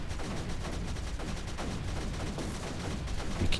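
Strafer gunfire from the video game NACDAR tearing through digitalis plants, a steady, rapid stream of small crackling shots layered over a low rumble, continuous and fairly close.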